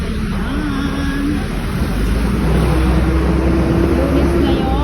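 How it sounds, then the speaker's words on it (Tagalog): Loud, continuous rush of Monday road traffic passing nearby, a broad roaring wash with a faint tonal whine drifting through it. "nagraragasa na naman yung mga sasakyan"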